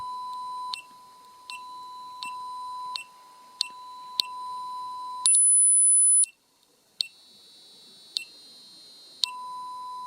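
A capacitive speaker driven by a Fnirsi LC1020E LCR meter emits a steady 1 kHz test tone in repeated beeps with short gaps, and briefly switches to a higher piercing tone before returning to the beeps; clear and alone.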